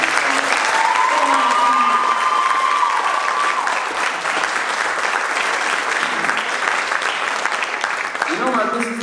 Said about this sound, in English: give all of our volunteers, all our business partners, and all our actors and musicians a round of applause